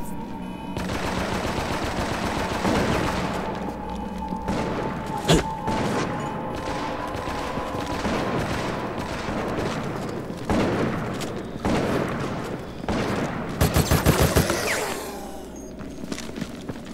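Gunfire in the Resident Evil: Operation Raccoon City video game, including shotgun blasts, comes as rapid, repeated bursts of shots mixed with loud explosions and action sounds, nearly continuous and close, with a short hard volley near the end.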